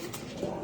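Pigeons in a loft give a short, low, soft coo at close range, heard alone without speech.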